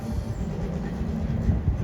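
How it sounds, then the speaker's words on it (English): Amusement park ride trains rumble at a Busch Gardens station, a continuous low mechanical drone with faint rolling wheel noise heard from some distance. "You can see the trains over there, orange and red, I believe."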